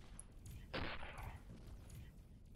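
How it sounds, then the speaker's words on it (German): A single loud, rumbling explosion bursts out in the space game Avorion as a ship section breaks apart, over a steady hum of background noise. "Wie man jetzt hier gerade bei den Explosionen auch mitkriegt"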